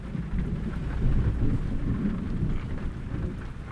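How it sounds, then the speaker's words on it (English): Inside a truck cab, a heavy downpour hammers the roof and windows in a constant loud roar while low thunderstorm rumble swells underneath, with no talking. "We got a freaking downpour here with a thunderstorm."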